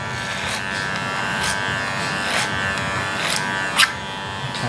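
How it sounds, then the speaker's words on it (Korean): Electric hair clippers buzz steadily and close up while cutting hair in a salon, with a continuous hum broken by a few brief sharper snips and scrapes as the blade moves through the hair. "바리깡은 천천히 자르죠."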